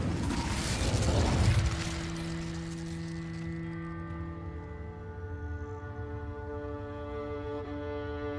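A fire spell is cast in Hogwarts Legacy, opening with a loud burst of roaring flame for about two seconds. It settles into a sustained resonant, ringing hum that fades slowly.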